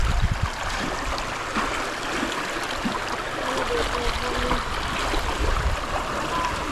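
River water streams and trickles steadily nearby where clothes are being washed, with splashes and voices talking over it.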